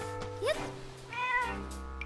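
A cat meows in the video game The Legend of Zelda: Echoes of Wisdom, giving one clear, rising call over a steady musical background, followed by a softer, drawn-out mew.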